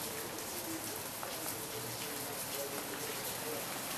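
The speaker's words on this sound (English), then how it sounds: "you hear rain." Rain falls on a house in Redondo Beach, a steady, even hiss of drops with no breaks across the whole span.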